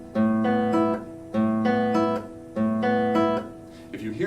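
Plucked arpeggio patterns on a string instrument, played with thumb, index and middle fingers set down together so the notes land unevenly; four repeated phrases of ringing tones, close and clear, with no talking.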